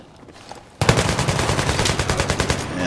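Rapid automatic gunfire in Battlefield 3 erupts after a short quiet stretch and keeps going as a loud, steady burst to the end.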